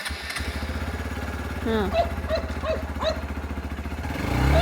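A new motorcycle's engine idles with a steady, throbbing pulse close by, then shifts into first gear and revs up slightly toward the end, with short voices heard over it.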